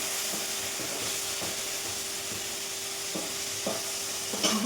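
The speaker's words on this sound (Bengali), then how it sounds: "দেখো, মাছের মাথা ভেজে নিচ্ছি।" Two large fish heads frying in a wok give a soft, steady sizzle with periodic scraping stirs and light clinks, moderately quiet and close, with no one speaking.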